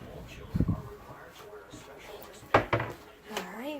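Drawers in a Carnival Paradise cruise ship stateroom slide and bump open and shut, two distinct clunks close by, with someone talking around them.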